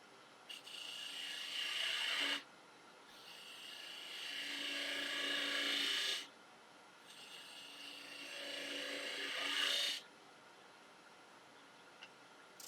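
A laburnum goblet spins on a woodturning lathe while a fillet is shaped under the cup: a high, steady whining hiss runs in three long passes of several seconds each, separated by quieter gaps.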